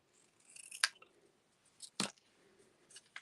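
Scissors snipping off part of a metal craft die cut: a few sharp, close snips, with two crisp cuts standing out among quieter paper rustling.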